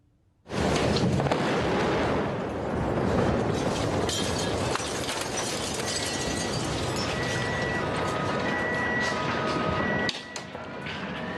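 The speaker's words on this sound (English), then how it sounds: "Pictures from the city showing the moment when a Russian airstrike hit the area around the hospital." Near a hospital in Mariupol, a Russian airstrike sets off a sudden loud blast that rolls into a long, rumbling roar with crackling debris and scattered impacts before it cuts off sharply near the end.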